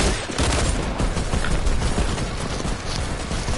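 Dense shotgun and gunfire in a duos shooter video game, a loud continuous barrage of overlapping blasts and rattling shots throughout, with no talking.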